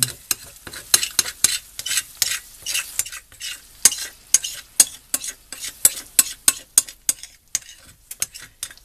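A spoon scrapes and scrambles eggs in a stainless steel frying pan, making quick, rhythmic metallic scrapes and taps close up over a faint sizzle.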